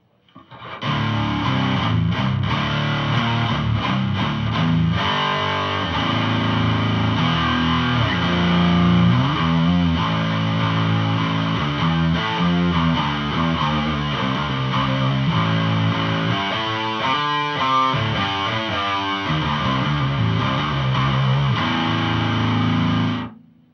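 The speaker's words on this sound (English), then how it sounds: "with the distortion I use, this is what it sounds like." Heavy distorted electric guitar through a Randall and Ampeg tube amp rig plays loud sustained doom-style chords and riffs, thick and fuzzy, continuing steadily with no voices.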